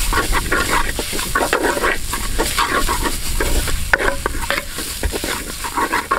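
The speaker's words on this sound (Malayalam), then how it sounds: "മുളക് പൊടി ഇട്ട് നന്നായിട്ട് വഴറ്റി എടുത്തിട്ടുണ്ട്" Chili powder sautéed in a pan for a Kerala-style lemon curry, giving a steady loud sizzle with repeated scraping and stirring strokes throughout, no voices.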